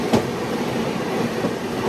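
Passenger train on a Bangalore to Kerala journey, heard from aboard: a steady rumbling roll of wheels on rails with faint rhythmic clatter and a brief sharp click near the start.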